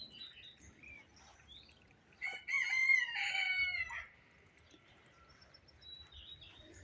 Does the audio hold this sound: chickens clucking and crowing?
yes